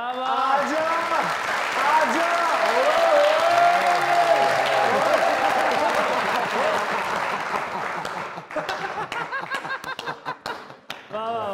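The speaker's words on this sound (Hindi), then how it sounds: "बहुत सी तालियां" Audience at a live stage comedy competition breaking into sustained applause mixed with cheering and chuckles, a dense wash of clapping that thins into scattered claps toward the end, with voices underneath.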